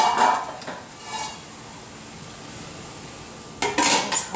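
Metal clinks and scrapes at the start, then a quieter pause, followed by another clatter of a lid settling on a pot of boiling quinoa nearby.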